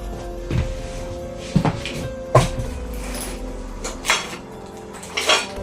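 A cooking pot is handled and stuffed into a bag, giving several scattered dull clunks and knocks against a low room hum. The thumps are spaced about a second apart.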